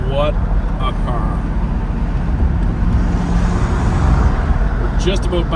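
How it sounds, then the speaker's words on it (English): A 1965 Chevrolet Corvette Stingray in Le Mans blue cruises on a sunny day, its engine and road noise a loud, steady rumble throughout, with faint traces of a voice near the start and end. "Just driving around on a sunny day in a spectacular Le Mans blue Stingray"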